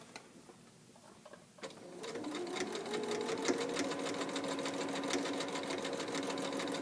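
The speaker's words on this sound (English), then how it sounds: "I'm just sewing a straight line all the way down the side of my shorts" A sewing machine stitches a straight side seam down a pair of shorts, starting after a brief quiet moment and then running with a fast, even clatter at close range.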